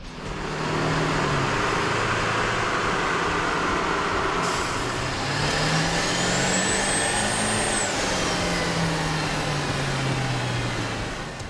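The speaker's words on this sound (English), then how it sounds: "With the air intake installed, we ran the vehicle on the dyno to test the sound comparison versus the stock intake." A 1999-2003 Ford F-350 with a 7.3L V8 diesel and a K&N air intake runs on a dyno, a loud, sustained engine drone whose pitch climbs and falls smoothly as it revs, with no talking.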